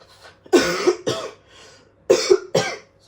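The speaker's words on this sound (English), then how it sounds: "So I got cough." Four harsh coughs from one person, loud and close, in two pairs with short quiet gaps between, no talking.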